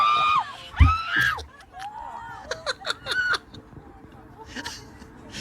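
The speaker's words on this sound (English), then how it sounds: "Let's hear some screams on a Delta flight" Passengers aboard a Delta flight scream and shriek in alarm at a loose pigeon in the cabin, a few sharp cries rising over excited crowd chatter and a bit of laughter.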